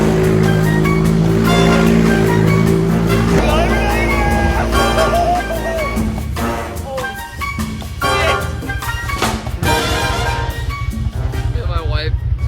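A Can-Am Commander side-by-side spinning donuts in the first snow storm: loud, sustained engine roar that rises and falls, under music with singing and crunchy bursts of spray.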